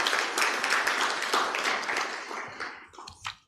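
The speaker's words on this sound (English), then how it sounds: "So let's applaud her in absentia." A room full of people at an annual general meeting applauds steadily, the clapping loud at first and then tapering off into a few scattered claps.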